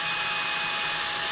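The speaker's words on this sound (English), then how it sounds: "Have your partner hold down on the airframe while you drill." A power drill fitted with a 1/8 inch bit drills a hole in a model rocket airframe, giving a loud, steady, hissing whir close by with no talking.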